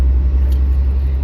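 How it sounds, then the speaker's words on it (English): Steady low road-traffic rumble from passing cars, close and continuous, with a dense low-frequency drone and no clear voices over it. "I hate traffic."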